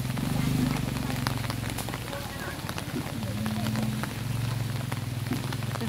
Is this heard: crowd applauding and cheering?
no